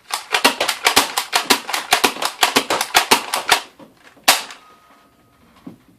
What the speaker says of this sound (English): Now I'm going to fire them off as quick as I can.